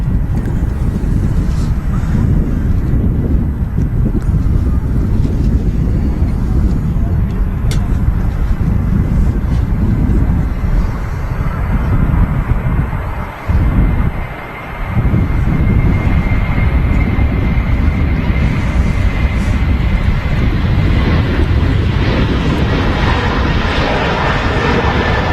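An Airbus A330 airliner rolls for takeoff at a windy Manchester Airport, its steady jet engine roar loud and continuous, with wind buffeting the microphone and a brief dip in the noise midway.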